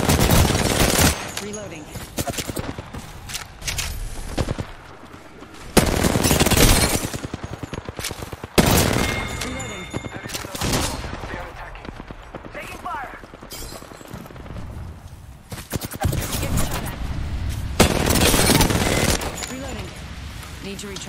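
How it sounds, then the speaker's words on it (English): Rapid automatic gunfire rattles in loud bursts during a PUBS match, with a team voice talking between and over the volleys. "I'm taking shots. Firing."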